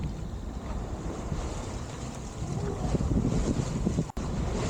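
A sailboat rounds the Portland Bill headland in lumpy seas, with steady wind rush and sloshing waves against the hull, swelling slightly midway and briefly cutting out near the end.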